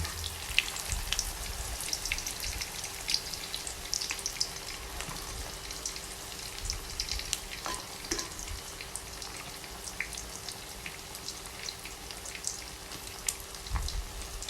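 A fluffy Thai omelette frying in hot oil gives a continuous, dense crackling sizzle with scattered pops throughout, close and steady with no speech over it.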